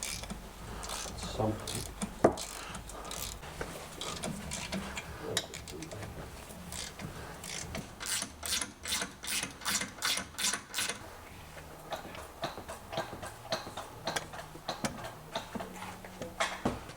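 A ratchet works loose the bolts on a Holden Monza differential, giving repeated bursts of fast clicking pawl ticks, close and fairly loud, with metallic knocks and clanks between runs and no talk.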